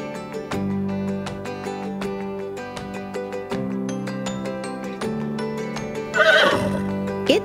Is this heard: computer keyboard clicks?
no